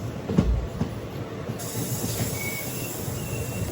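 The Krishna Express passenger train, on its Adilabad to Tirupati run, rolls along with a steady, fairly quiet rumble and hiss of wheels on rails, heard from on board with no voices.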